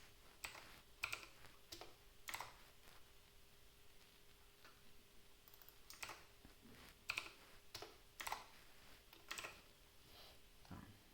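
Sparse, irregular keystrokes on a computer keyboard while HTML is written, quiet clicks coming in small bursts with pauses between them, alone with no talk.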